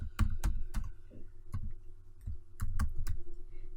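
Keyboard typing of a servlet tag while coding, heard as irregular bursts of sharp clicks and key taps, close and clear with short pauses between groups, no voice.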